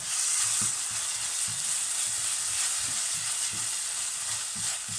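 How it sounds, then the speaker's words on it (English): Ginger, garlic and chili powder fry for a Sri Lankan black pork curry, giving a steady loud sizzle throughout with soft scraping and stirring knocks from the pan underneath. "Give that a bit more of a fry, start to get all that fragrance from the ginger and the garlic."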